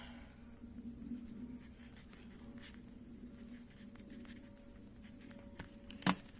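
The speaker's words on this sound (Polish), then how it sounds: "Piszę trochę tak na szybko, na brzydko" Quick handwriting with a pen on paper, soft close scratching strokes running continuously and quietly, with a brief sharp tap near the end and no speech.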